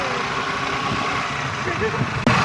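A scooter engine drones steadily and close while a first-time rider rides it, with voices over it and a sharp thump near the end.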